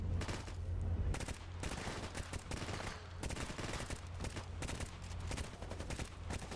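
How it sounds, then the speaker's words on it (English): Bursts of automatic gunfire from enemies holed up in a tower in S.T.A.L.K.E.R. GAMMA, dense rapid volleys cracking almost continuously over a low rumble, loud and sustained throughout. "there are guys in the tower. Those are the guys that are shooting at us right now."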